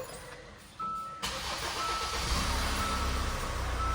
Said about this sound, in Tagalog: start na natin yung ating Hyundai Santa Fe na in-overhaul